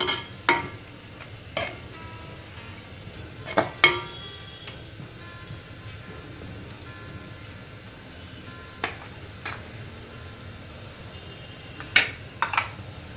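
Tomato paste frying in oil in a pan, a steady low sizzle broken by repeated scraping stirs at irregular intervals, close and alone with no talk.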